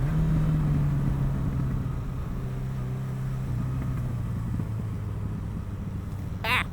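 A Yamaha XJ6 motorcycle engine hums steadily while riding along country roads, a continuous close rumble with a slowly falling pitch and a brief higher whine near the end.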